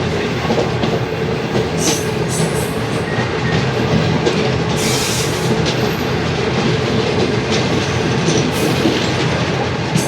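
A passenger train crosses at Gojra railway station in Pakistan, loud and close, with continuous rumbling, clickety-clack of wheels over rail joints and occasional squealing, no talk.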